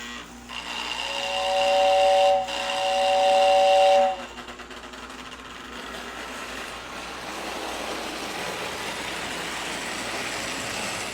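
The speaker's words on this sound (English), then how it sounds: "So in first place is the 250. I'm going to run it, I think, with the whistle tender just for fun" A Lionel Scout 250 toy train engine running with its whistle tender sounds two long, steady whistle blasts up close, then the whistle stops and a lighter, continuous rolling rumble of the small train goes on.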